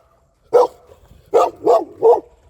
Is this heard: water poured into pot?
no